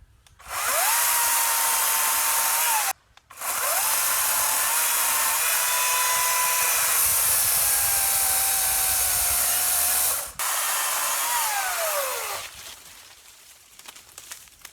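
An Atlas electric chainsaw cuts into a tree in the woods with a loud, steady high-pitched whine that holds for a few seconds, breaks off briefly, runs again, pauses, then winds down.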